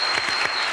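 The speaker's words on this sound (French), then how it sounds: "Applaudissements pour ces jeunes femmes, s'il vous plaît," Studio audience applauding on a French television variety show, a short burst of dense, steady clapping throughout.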